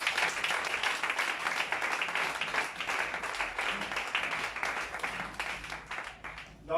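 A church congregation claps and cheers in praise of the Lord, a steady wash of applause from many hands with voices mixed in, fairly distant and even, tapering off toward the end.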